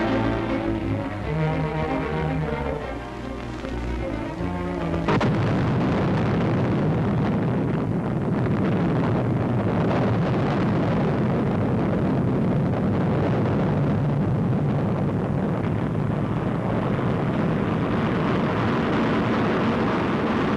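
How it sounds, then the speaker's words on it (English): An 85-foot Atlas missile, fully loaded to 122 tons, lifts off on its rocket boosters: after a quieter opening, a sudden thunderous roar bursts in and holds as a loud, continuous rumble. "The 85-foot missile goes aloft in a near-perfect takeoff"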